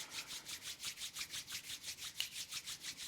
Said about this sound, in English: and then rub the palms together